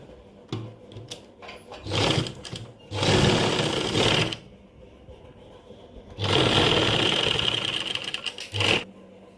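A sewing machine stitches lace onto a garment neckline, running in bursts of steady whirring and rapid needle clatter separated by brief pauses.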